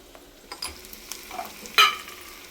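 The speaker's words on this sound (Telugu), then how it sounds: "ఈ పోపు మొత్తం ఎర్రగా వేగాలి" Onions and a spice tempering fry in a pan, a soft sizzle broken by light stirring clicks and one sharper scrape near the end, close and fairly quiet, with no voices.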